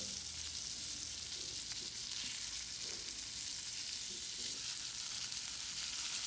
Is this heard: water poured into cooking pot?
no